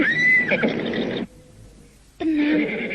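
Horse neighing as an audio drama sound effect, a loud, close whinny with a wavering pitch, then a short quieter gap before a second neigh.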